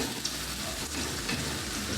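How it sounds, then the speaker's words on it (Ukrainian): Steady, close sizzling of food frying in a pan, with faint scraping from stirring running throughout. "ось так помішуючи, ми їх ще будемо смажити."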